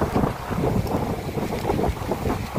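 Strong wind roars and waves surge and churn along the coast at Aroroy, Masbate during Typhoon Kristine, a loud continuous rushing with buffeting wind noise and no talk.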